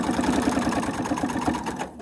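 A sewing machine stitches a small fold-and-store item in a fast, steady run of close mechanical clatter that stops near the end.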